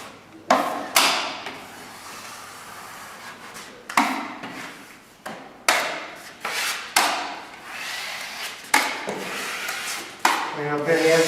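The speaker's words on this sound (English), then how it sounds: "When wiping, start in the middle and work your way out." A drywall knife wipes mud over joint tape with repeated scraping strokes, each starting with a sharp contact and fading as it drags across the wall, close and distinct with brief gaps between passes.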